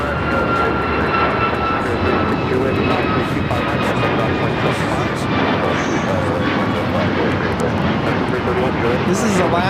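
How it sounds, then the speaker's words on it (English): An Alaska Airlines Boeing 737 MAX 9 jet takes off from runway 25 Right at LAX, its engines making a loud, steady, broadband roar that fills the whole stretch, with faint voices in the background. "This is Alaska Airlines 1035 taking off to Puerto Vallarta on a MAX 9."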